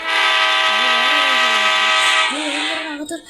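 A loud, sustained video game train horn blares for about two seconds, then fades into lower rumbling with a shorter horn tone, with no talking.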